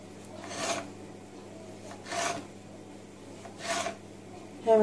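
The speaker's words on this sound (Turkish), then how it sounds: "Öncelikle mantarlarımı şöyle doğruyorum." A knife slices through mushrooms on a cutting board in a home kitchen, making three soft, separate rasping strokes with quiet pauses between them.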